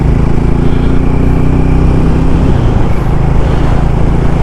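A Hero Mavrick 440, a 440cc motorcycle, is ridden on an open road with its engine note droning steadily and close throughout, mixed with wind rush and a slight shift in tone near the end.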